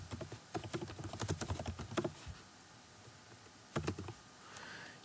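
Typing on a computer keyboard, close key clicks in a quick burst, a pause, then a brief second flurry of taps, quiet and alone.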